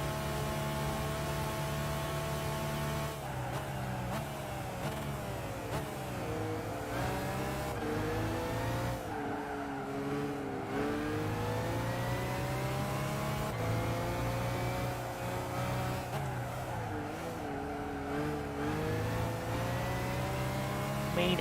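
A Toyota Prius races in Gran Turismo 5, its engine droning steadily with rising and falling pitch through gear changes across the whole stretch, loud and continuous with no talk.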